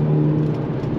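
Hyundai Elantra N engine and exhaust on a race track, a steady low rumble with a sustained droning tone, close and fairly loud, with no talk over it.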